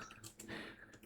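Quick, light clicking of keys on a computer keyboard, a short burst of typing heard close up and fairly quiet.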